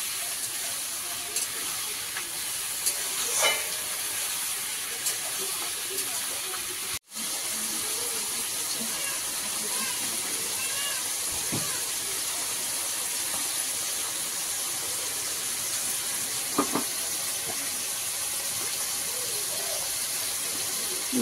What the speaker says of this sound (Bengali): এবারে দিয়ে দিচ্ছি স্বাদ অনুযায়ী নুন, একটু হালকা করে ভেজে নেবো